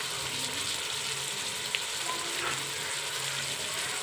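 Pieces of bitter gourd fry in a pan with salt, giving a steady, even sizzle throughout, close and uninterrupted, with one brief faint tap midway.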